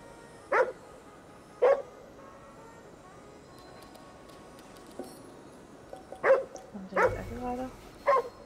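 Dog barking in the video game Ghostwire: Tokyo: a handful of short, sharp barks, one early, one near two seconds and a cluster toward the end, over a quiet background.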